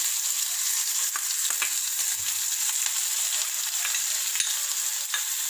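Onion fries on a low flame in a pan with ginger and garlic, a steady close crackling sizzle with occasional small pops and stirring scrapes, no talking.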